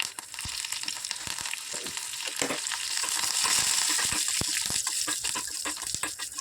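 Curry leaves crackling in a hot oil tempering, a steady close sizzle broken by sharp pops and spatters throughout.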